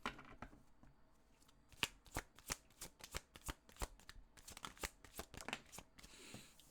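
Tarot cards are shuffled by hand in a quiet room, producing a steady series of soft riffling slaps and flicks at close range.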